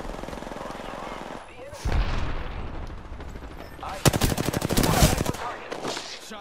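Gunfire in Apex Legends with Mirage and an R-301 rifle: bursts of rapid automatic shots, loud and close, with a sharp cluster near the end, mixed with game noise and a voice line.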